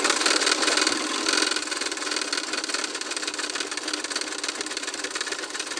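A sewing machine stitching blouse sleeve lining to the main fabric, a fast, continuous mechanical whir with a rapid even rhythm, close and steady throughout, slightly louder at the start.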